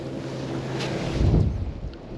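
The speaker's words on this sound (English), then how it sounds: "this wind has probably changed direction" Cold wind blows along a river bend while fly fishing for brown trout in the Falklands, a steady close rush buffeting the microphone, with a slightly stronger gust midway and no voices.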